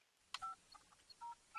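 A phone line plays electronic beeps while calling a phone that is switched off. A few short, faint tones come in an uneven pattern with quiet gaps between them.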